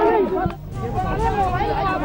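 A crowd of political party workers clamouring loudly, a dense continuous babble of many voices that stays strong from start to finish, with one clearer voice speaking over it.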